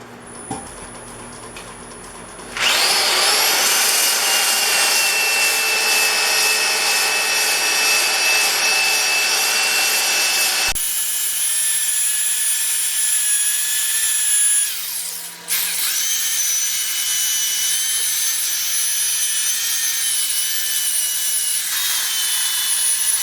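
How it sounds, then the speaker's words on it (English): Continuous high-pitched whirring and abrasive rubbing of a spinning wooden piece being sanded on a lathe, loud and close, with a brief pause partway through. "So I'm converting to sanding"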